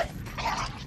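A dog whimpers and yips in one brief, plaintive burst, moderately loud and alone over a noisy background.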